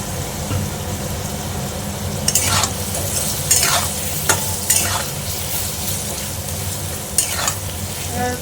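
Soybean nugget curry frying with spices in a pan, a loud continuous sizzle broken by several sharp scraping stirs of a spatula, close up and without speech.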